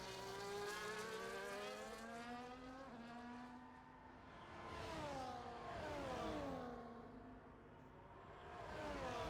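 A McLaren race car in a racing video game sends out a continuous high-revving engine whine. It rises and falls in pitch through gear changes and cornering, and is heard alone at moderate level.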